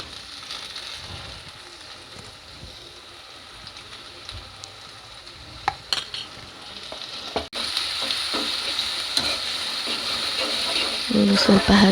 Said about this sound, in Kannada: ಈಗ ಇದಕ್ಕೆ ನಾನು ಜಿಂಜರ್ ಗಾರ್ಲಿಕ್ ಮತ್ತು ಚಿಲ್ಲಿ ಪೇಸ್ಟ್ ಇದೆಲ್ಲ ಅದನ್ನು ಹಾಕ್ತಿದ್ದೀನಿ.